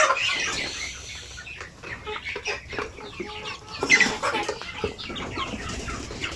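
Native chickens cluck and call continuously inside a confined pen, with overlapping hen clucks, a few louder squawks and occasional wing flaps close by.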